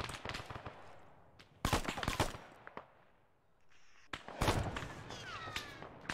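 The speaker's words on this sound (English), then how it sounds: "But he's shooting at us." Gunfire in the ArmA3 military video game: sharp bursts of shots in clusters, some close and loud, others more distant, with gaps of quieter ambience between volleys.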